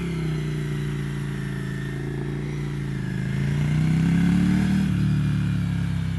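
A Ducati Scrambler Icon motorcycle with a Termignoni exhaust holds a steady, throaty idle close up, then swells into a louder rising rev before easing off.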